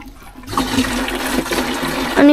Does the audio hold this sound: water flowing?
yes